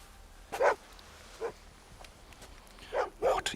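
A dog gives a few short whimpers and barks in a tense scene from the 2002 film Dog Soldiers, sharp bursts spaced across the moment over a quiet background.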